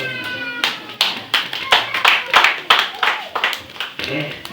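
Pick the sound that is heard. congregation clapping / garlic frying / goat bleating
congregation clapping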